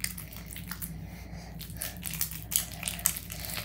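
Slime squished and stretched by hand, giving soft, wet, crackling squelches in irregular bursts, close and fairly quiet.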